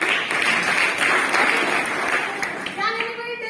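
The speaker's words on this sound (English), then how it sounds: "Give a big round of applause for him." Students in a college classroom presentation give a round of applause, a dense burst of clapping that thins out near the end as voices rise over it.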